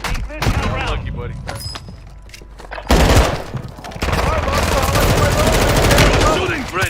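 Gunfire in a shooter video game from friendly soldiers, dense bursts of automatic rifle fire with booming impacts rolling almost continuously, loud and close, with a voice talking over it.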